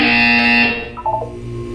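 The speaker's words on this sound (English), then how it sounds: "When you hear the buzzer, look up at the ceiling." A harsh electronic buzzer from the Portal 2 video game blares as one loud, sustained tone for under a second, then cuts off and fades into a faint tonal hum.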